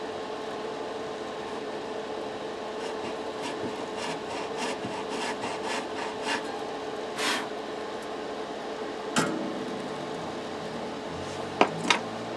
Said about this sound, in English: so we lowered the E nut slot